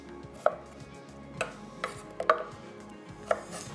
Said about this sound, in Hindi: प्याज को कर लेंगे स्लाइस